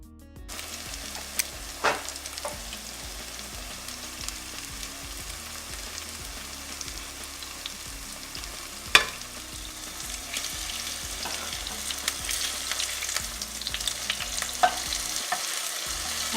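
Zucchini and summer squash fritters sizzle in hot oil in a pan, a steady soft crackle with occasional sharper pops and clinks of a utensil, no voices.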